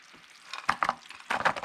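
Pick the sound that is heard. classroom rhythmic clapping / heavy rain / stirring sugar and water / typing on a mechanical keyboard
stirring sugar and water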